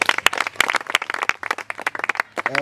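Applause from an audience at a church gathering, clapping in uneven bursts that fade toward the end, with a voice starting to speak over the last moments.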